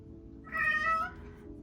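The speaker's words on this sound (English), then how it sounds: "Boy, my cat's really, really having a bad day today." A cat gives a single clear, drawn-out meow, moderately loud against a quiet indoor background with a faint steady hum.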